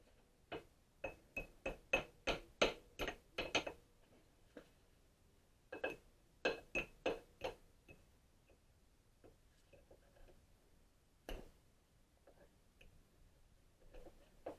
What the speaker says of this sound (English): we're going to do is drive our C-clip into the side of this piece here.